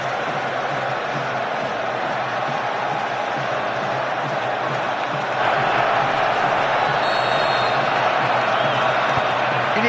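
A dense, steady roar from the Wembley crowd at the England vs Croatia Euro 2008 qualifier on 21 November 2007 fills the stands without a break, rising and growing louder partway through.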